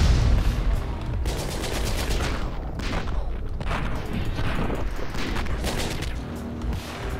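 Rapid bursts of gunfire and booming impacts from missiles being shot down in the action game Katana Zero, loud and dense throughout with overlapping pops and crashes, no talking.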